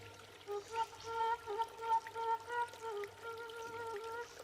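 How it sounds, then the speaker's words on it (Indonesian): Rain falls and trickles steadily during wet weather at home, a soft patter and pouring dribble with repeated light drips, fairly faint and with no one talking. "Berhubung cuacanya lagi hujan terus, jadi di rumah aja."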